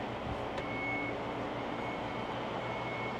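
A Geely Monjaro's electric power tailgate gives a faint, steady electronic beep, a thin sustained tone over quiet background hum with a soft knock near the start.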